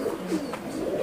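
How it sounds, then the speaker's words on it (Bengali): A golden male pigeon coos in a low, rolling burble, close and steady through the whole moment with no voices. "এটা গোল্ডেন নর কবুতর"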